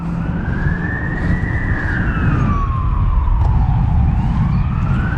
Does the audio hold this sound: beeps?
no